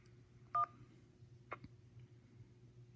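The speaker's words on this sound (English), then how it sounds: "All other callers, please press 2." A single telephone keypad DTMF tone from a button press on an automated county electronic monitoring hotline, one short beep near the start, then a faint click and quiet line hiss.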